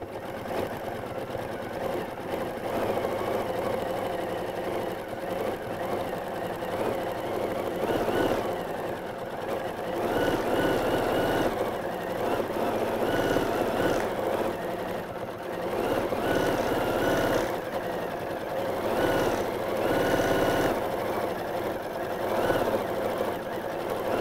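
A Janome Horizon Memory Craft 9480 sewing machine running steadily while quilting, its needle mechanism whirring and clattering in a fast, even rhythm throughout, close and moderately loud with no voices.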